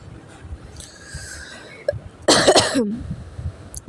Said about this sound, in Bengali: কারণ আমার একটুতেই কাশি উঠে